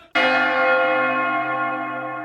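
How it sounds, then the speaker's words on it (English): A single loud bell strike rings out and sustains with a bright, shimmering tone that decays slowly over two seconds, with no voices over it. "Ring the bell."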